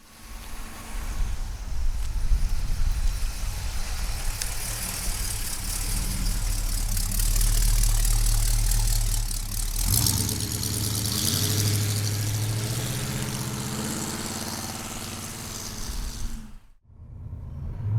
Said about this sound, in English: All right, let's take this GTO for a ride.